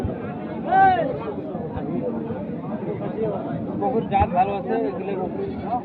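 Goats bleating amid the crowd at a village livestock market, several wavering calls over steady chatter and bargaining voices.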